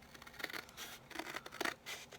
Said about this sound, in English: I'm going to take my scissors and I'm going to cut that burnished edge off.